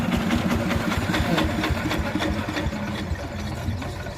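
A Yanmar TF105ML two-wheel hand tractor engine runs steadily, a loud continuous chugging drone with rapid rhythmic knocking, close by and without talk.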